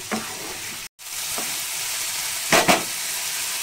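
Potatoes frying with spices in a pan for a Bengali cauliflower and peas curry, a steady loud sizzle broken by a brief cutoff and a few scraping stirs near the end.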